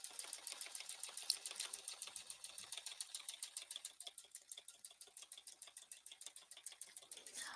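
A sewing machine stitching a quilt at high speed, a fast, steady, even mechanical clatter of needle strokes, close and fairly quiet, with no talking.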